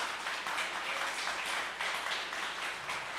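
A church congregation claps together in steady, sustained applause during a service, a soft, even wash of hand claps heard from a distance.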